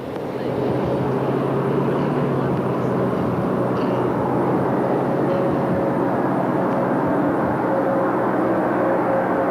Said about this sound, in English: Main gear touchdown